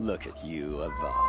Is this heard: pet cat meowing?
yes